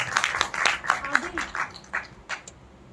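Scattered audience clapping for a line of poetry at a live Hindi poetry recital, a few uneven bursts of claps rising and thinning out over a few seconds, fairly close, with some faint voices underneath.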